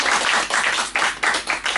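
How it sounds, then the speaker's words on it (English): A small audience claps after a talk on epistemology, a short burst of close, bright applause with a few quick rising waves of hand claps and no speech. "Can we have a round of applause for Srini?"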